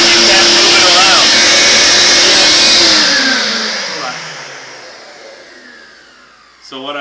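A vacuum cleaner runs loudly while cleaning a Sevylor K2 inflatable kayak, its motor whine rising and shifting, then winding down and fading as it is switched off, ending with a brief click.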